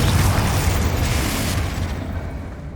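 A Confringo explosion spell going off in the video game Hogwarts Legacy, a loud booming burst with a rumbling low tail that fades over about three seconds.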